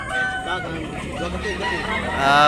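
A Gilmore bloodline gamefowl rooster crows amid the clamor of other roosters at a gamefowl seller's yard in Tabunok, Talisay, Cebu, with faint voices mixed into the dense, steady racket.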